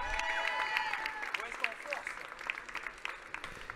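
Audience clapping for finalists at a national burger competition final, brisk scattered applause mixed with crowd noise and a voice speaking over it.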